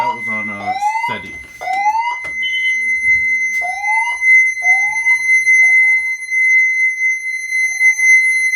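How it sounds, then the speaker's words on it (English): A home security system's fire panic alarm blares close and loud as a steady high electronic tone. Rising chirps break over it again and again, and a voice speaks briefly near the start. "We can go and test the security system. I want to do the police panic or maybe the fire panic."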